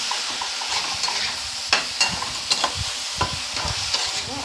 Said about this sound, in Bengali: দিয়ে মশলাটাকে কিন্তু ভালো করে আমি কষিয়ে নেব।